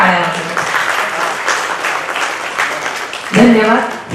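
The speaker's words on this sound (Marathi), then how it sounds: "जोरदार टाळ्या वाजवा." Loud applause from the crowd at a retirement ceremony for a land records official, a continuous burst of clapping that fills most of the moment before a voice cuts in near the end.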